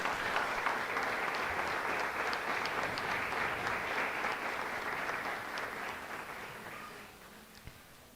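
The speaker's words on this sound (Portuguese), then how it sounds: "Uma salva de palmas a todas as famílias." Sustained applause from a crowd, steady and full for several seconds before gradually thinning and fading out.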